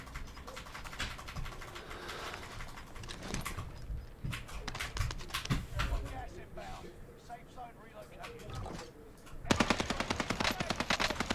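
Rapid video-game gunfire from Warzone rattles in repeated automatic bursts, with shots fired from a building, growing denser and louder near the end, while players talk over the action.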